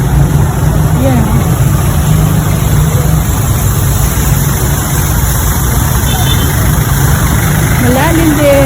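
A motorcycle engine idles with a steady low rumble throughout, while people talk over it in the foreground.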